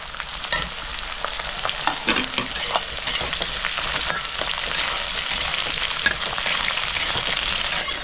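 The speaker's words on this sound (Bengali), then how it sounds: "রসুন পেঁয়াজ আর লঙ্কা কাঁচা লঙ্কা আমি হালকা লাল করে ভেজে দিয়েছি" Onion, garlic and six green chillies stir-frying in a pan for a pumpkin-leaf paste, a steady close sizzle broken by frequent scrapes and clicks of the spatula, with no voices.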